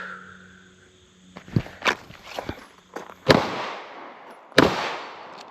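Sharp gunshots at an outdoor shooting range, one double shot followed by two well-spaced single reports that ring out briefly, with quieter handling noises between them and no talk.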